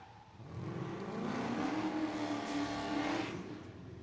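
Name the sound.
drift car revving engine and burning tires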